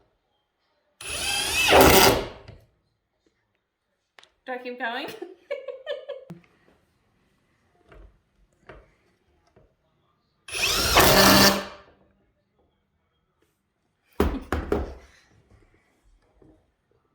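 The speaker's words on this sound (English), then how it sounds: "We have a screw on the drill." A power drill drives a screw into wood during a DIY treadmill desk build, two loud sustained whirring bursts with a shorter third burst near the end, separated by talk and light laughter.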